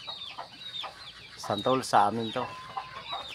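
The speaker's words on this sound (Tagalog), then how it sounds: "Ayan, yan yung aming mga alagang manok dito." Farm chickens cluck and cackle nearby in a short run of sharp, stuttering calls, faint at first and then louder, while a person speaks briefly over them.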